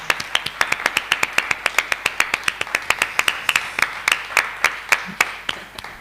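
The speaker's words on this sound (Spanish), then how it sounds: "un fuerte aplauso para Dionisio Cañas" Steady applause from an audience at a live poetry and performance event, with sharp claps in a fast, even rhythm for about six seconds. The clapping is close and fairly loud, with no voices over it.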